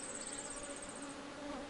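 Honeybees stimulated by low-intensity electric current on wires for venom collection buzz in a steady, close, high-pitched drone of many overlapping wings.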